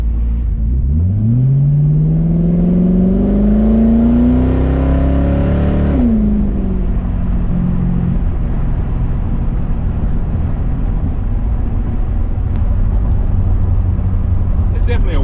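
A supercharged Coyote-swapped SN95 Mustang accelerates hard from a dig, its engine note climbing steadily for several seconds before a shift, then continuing at a lower, steady roar; loud and close throughout.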